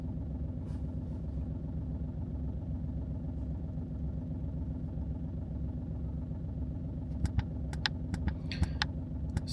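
A VW Polo engine idles steadily with an even low mechanical hum and throb, close and continuous, with a few faint clicks near the end.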